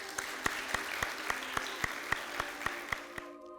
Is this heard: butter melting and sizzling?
no